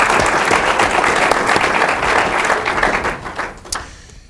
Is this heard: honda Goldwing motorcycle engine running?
no